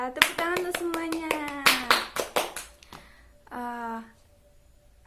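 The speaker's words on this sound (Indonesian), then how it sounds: "Ya, tepuk tangan untuk semuanya." Primary school scout pupils clap their hands in a quick uneven series, close by, while children's voices call out loudly over and between the claps.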